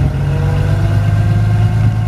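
A Komatsu FG45 10,000 lb pneumatic-tire forklift engine hums loudly and steadily at close range as the mast tilts back, a low droning tone with hydraulic strain layered in, no voices.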